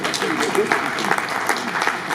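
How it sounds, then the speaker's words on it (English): Audience applause at a housing ceremony where new schemes are inaugurated, a steady patter of clapping across the whole stretch with voices mixed in underneath. "Please, let's clap for them."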